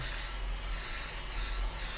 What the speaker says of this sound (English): what we're going to do now is spray some adhesive